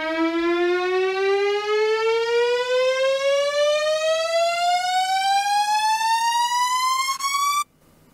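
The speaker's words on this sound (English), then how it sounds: "And that essentially is how to make a riser." A synth riser built in Ableton Live, a loud harmonic-rich tone sweeping steadily upward in pitch for about seven seconds before cutting off abruptly.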